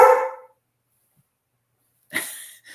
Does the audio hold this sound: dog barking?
yes